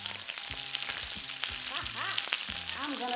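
Sausages browning in a frying pan sizzle steadily, with a few brief scrapes and clinks mixed into the crackle.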